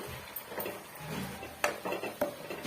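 Masala paste being mixed into chopped chow chow in a pan, a few close clinks and scrapes of a spoon against the metal pan over a faint background, with no speech.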